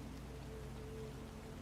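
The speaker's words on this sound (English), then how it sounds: "Everything is softened by the rain." Steady, soft rain falls on a surface as an even, continuous patter at low volume, with no other sounds standing out.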